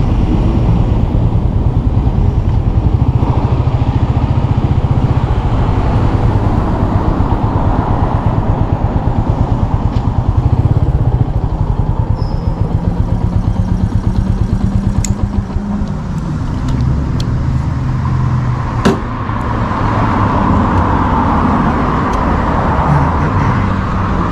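A Royal Enfield Meteor 350 custom motorcycle (2023) engine roars steadily throughout, with wind rushing past as it rides along at speed, loud and continuous.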